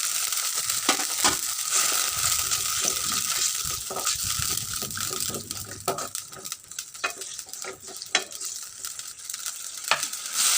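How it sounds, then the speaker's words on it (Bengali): Ground spice paste of cardamom, cinnamon, cumin and ginger fries in a pan for a duck curry, giving a steady loud sizzle throughout, broken by scraping stirs and occasional sharp clinks. "মশলাটা আমি কষিয়ে নিয়েছি।"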